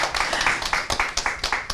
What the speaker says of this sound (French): On applaudira encore pour elle.